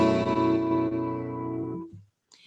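An acoustic guitar in a self-made alternate tuning rings out a strummed chord that sustains and slowly decays to silence, with a brief faint sound afterwards and no voices.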